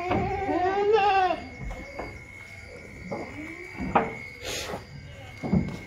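Kathiawadi goats bleating several times in quick wavering cries, close and fairly loud, among scuffling, knocks and handling noises, with people talking briefly nearby.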